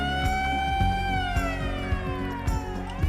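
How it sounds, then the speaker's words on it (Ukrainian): A wailing siren sweeps slowly downward over a low rumbling engine or traffic bed, loud and continuous with no voices. "Коли ти чуєш повітряна тривога"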